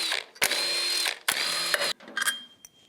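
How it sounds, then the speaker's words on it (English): A ratchet backs out six 10mm bolts from a Polaris Ranger primary clutch. Several quick bursts of rapid clicking ratcheting are separated by short pauses, close and clear. "Now we're just going to pull these 6 10mm bolts."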